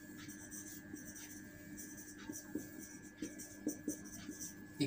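A pen writing on paper makes faint scratchy strokes in short irregular bursts, quiet and close, with no talk during the writing.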